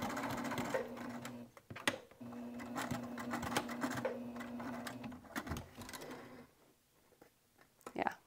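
A domestic sewing machine hums and clatters as it stitches a wristlet, running in bursts with pauses, thumps and handling noise between runs before it quiets near the end.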